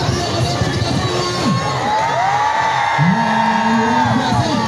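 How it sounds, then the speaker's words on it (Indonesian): A large outdoor crowd at a police-hosted stage show and people's market shouts and cheers, with many overlapping voices whooping and yelling in sustained, loud waves. "Mana teriakannya untuk kita semua?"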